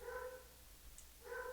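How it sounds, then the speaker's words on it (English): A dog barks during a thunderstorm, giving two short, somewhat muffled barks with a quiet gap between them, heard from a little distance indoors. "just barking up a storm at the storm"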